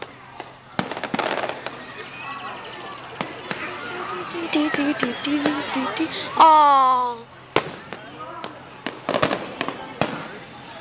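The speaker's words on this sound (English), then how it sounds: "Fireworks!" Fireworks bursting at night in Tomorrowland at Walt Disney World in 1985, a dense run of sharp pops and crackles with one loud whistling rise, heard amid crowd chatter and a brief exclamation.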